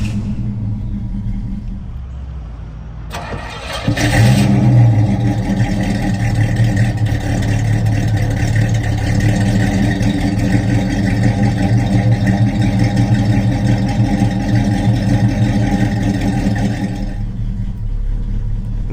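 A 1971 Pontiac Firebird Formula 455 V8 cranks briefly, catches, and settles into a loud, steady, rumbling idle that continues close up for over ten seconds before cutting off.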